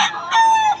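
A rooster at a gamecock sale crows once, close and clear, a short strained call with a rising start and a sustained pitched tail.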